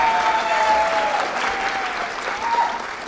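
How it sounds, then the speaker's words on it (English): Audience applause at a college lecture at Irvine Valley College: steady, dense clapping from a crowd that fills the whole stretch at a loud, even level, with no talk. "give a round of applause for Monica."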